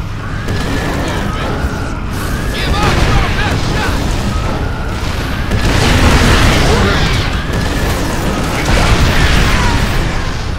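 A Nidus worm bursting up through the ground in StarCraft II, deep rumbling booms and mechanical grinding that swell in waves across the clip, loud and close, with voiced game alerts in the mix.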